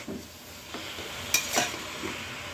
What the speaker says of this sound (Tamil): ஸோ இப்போ ஒரு பரட்டி விட்டுக்கலாம்.